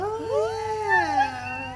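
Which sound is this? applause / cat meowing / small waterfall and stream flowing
cat meowing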